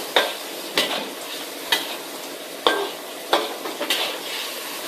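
Pastel filling stirred in a frying pan with a utensil, a sharp scrape against the pan repeating roughly every second over a steady soft sizzle, close and clear with no talking.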